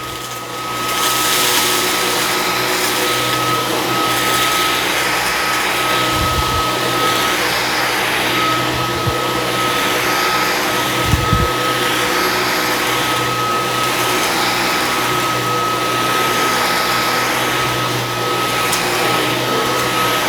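A Dyson V15s Detect Submarine wet-dry vacuum runs in auto mode over carpet, a loud, steady, continuous whine that holds for the whole stretch, with a few brief low thumps along the way.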